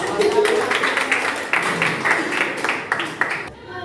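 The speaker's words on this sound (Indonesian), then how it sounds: "Ya, tepuk tangan." Students in a classroom clapping together, a brisk burst of many hands that runs for about three seconds and then stops abruptly, with a few voices mixed in.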